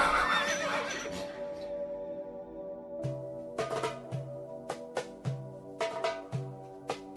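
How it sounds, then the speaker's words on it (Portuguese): Donkeys setting off on a journey: a loud braying call opens, followed by a steady series of hoof clops on hard ground. "De manhã bem cedo, os irmãos de José saíram de viagem com seus jumentos"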